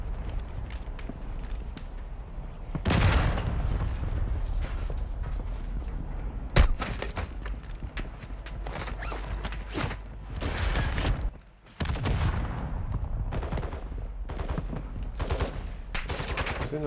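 Gunfire in the Warzone 2 DMZ shooter game: dense bursts of shots and heavy booms follow one another almost without pause, loud and close, over a constant rumbling background with mechanical creaks.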